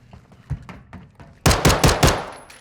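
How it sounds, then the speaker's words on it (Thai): Warning shots ring out in Warzone 2.0: faint scattered shots first, then a loud close burst of four or five rapid gunshots in quick succession, fading out near the end. "เออผมยิงขู่ไว้อย่างนั้นแหละ"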